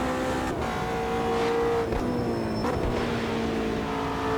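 Race car engine in Automobilista 2 on the Nürburgring Nordschleife, revving and shifting gears under a constant hissing wash like spray off a wet track.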